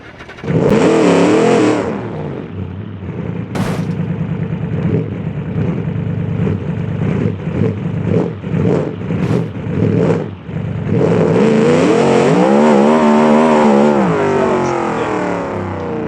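A drag car engine in the BeamNG driving game roars loudly in long revving sweeps, with a choppy stretch of rapid throttle blips between two sustained high-revving runs, no talking.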